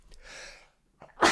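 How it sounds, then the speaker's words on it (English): A man sneezes in a series of sneezes, a softer breathy burst followed by a sharp loud one, close to the microphone. "getting things off to a start with a series of sneezes"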